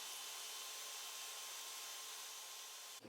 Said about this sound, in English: Then use the belt sander clamped down to my workbench to sand the curve smooth.